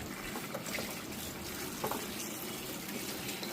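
Tap water running steadily into a bowl while lychees are washed by hand in a home kitchen, a continuous splashing rush with occasional small knocks, fairly close.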